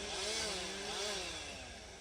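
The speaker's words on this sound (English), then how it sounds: "It would be nice to just enjoy it without the chainsaws, but stop it!" Chainsaws running in the distance near a farmstead on a Portugal homestead, a steady buzzing whine that rises and falls slightly, faint and continuous with no talk.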